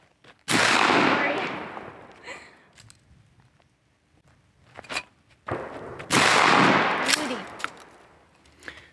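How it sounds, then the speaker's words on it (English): A Remington 870 pump-action shotgun fires two loud, close blasts several seconds apart, each with a long echoing decay, plus faint clacks between them as the action is worked. "And we'll take a shot and see how the 870 runs."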